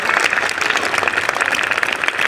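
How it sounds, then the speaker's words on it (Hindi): Students applaud themselves at a youth group gathering, a loud, dense and continuous round of clapping from a crowd, close and sustained throughout. "एक बार फिर अपने लिए तालियां बजा दो।"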